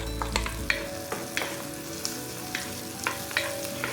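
Potatoes dropped into hot oil with turmeric in a pan for saag aloo, a soft steady sizzle broken by repeated clicks and scrapes of stirring, close and moderately quiet with no talking.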